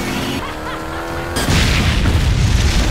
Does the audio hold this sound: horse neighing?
no